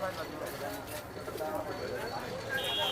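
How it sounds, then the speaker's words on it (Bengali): High-flying Giribaz pigeons, a male and a female, sit at a busy pigeon market in Tongi. Faint cooing carries under close conversation and general market noise. "এটা হচ্ছে নর কবুতর আর এটা হচ্ছে মাদি কবুতর"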